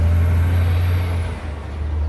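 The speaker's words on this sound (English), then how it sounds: "I was waiting for the truck to go by." A truck passes on a road by Sharks Cove on Oahu's North Shore, a steady low engine rumble close by that eases slightly toward the end, with no talk.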